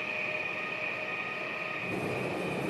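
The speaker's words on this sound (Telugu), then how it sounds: "ఆహా ఇంకో ట్రైన్ కూడా వచ్చేస్తున్నాడు" A train rolls past steadily in the RG Train-Tech Demo Android game, a continuous rumbling roar with a sustained high tone riding over it.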